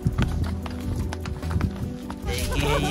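Horse hooves clip-clop along a high mountain trail at Sonamarg in Kashmir, a quick uneven patter of hoofbeats under someone talking and open-air wind noise.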